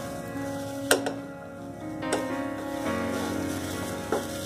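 Bread snack pieces fry in hot oil for an evening snack, giving a soft, steady sizzle. Sharp ticks and clinks from a utensil break in now and then, and no one speaks.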